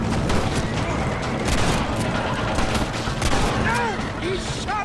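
Gunfire from the Western video game Red Dead Redemption, played on PS5, pops out of a dense, continuous game soundscape of music and effects, with several loud cracks spread through the scene and whistling tones near the end.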